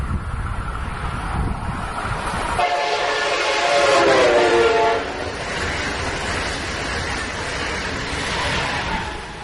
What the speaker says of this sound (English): Did you hear the high pitch of the horn as the train approached the station